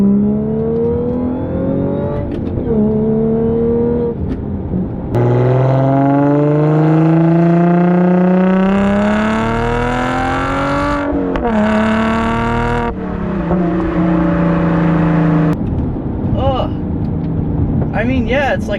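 An Audi S4/S5 fitted with an AWE exhaust pulls hard in second gear, a loud, steady rising engine note climbing through the revs from inside the cabin, with shifts and brief dips, and someone talking over it.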